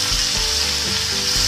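Pieces of raw jackfruit fry in hot oil with a dense, steady sizzle heard up close, broken by a few low thumps of stirring.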